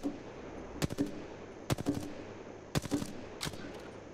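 R-301 carbine fire in the shooter game Apex Legends, sharp short bursts of rapid gunshots repeating roughly every second in a clipped, rhythmic pattern, close and punchy over a low game ambience.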